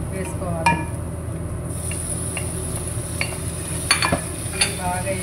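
Onions, green chillies and tomatoes frying in a pan, a steady soft sizzle with occasional stirring scrapes and light utensil clinks, close and moderate in level.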